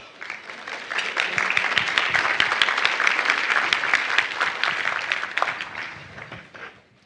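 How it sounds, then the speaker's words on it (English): Audience applause at a live JDRF event, a dense, steady crowd clapping that swells quickly, holds strong for several seconds and then tapers off near the end, with no talk over it. "I'd like to give a big round of applause to Mark."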